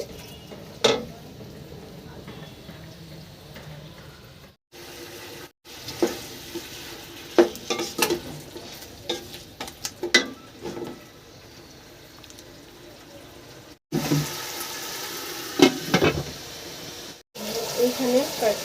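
Chicken pieces frying for korma in a pan, a steady sizzle broken by repeated stirring scrapes and clanks of a utensil, close, with brief pauses and a voice speaking at times over the cooking.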